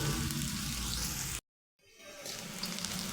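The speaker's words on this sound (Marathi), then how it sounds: "हे कांदे ना आपण याच तेलामध्ये फ्राय करायचे" Onions frying in hot oil, a steady loud sizzle that cuts out briefly to silence and then resumes at full strength.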